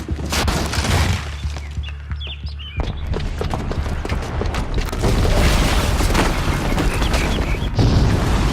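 A bomb explodes in the Horizon Zero Dawn video game: loud, dense, sustained blasts and crashing debris fill the whole stretch, building even heavier toward the end.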